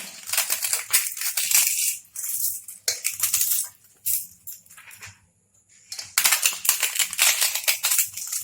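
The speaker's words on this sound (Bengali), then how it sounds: "পাঁপড়টাও ভেঙে নেব" Fried papad snapped and crumbled by hand while making crispy fried chira (flattened rice), a run of close, dry crackling crunches in bursts with a short pause midway.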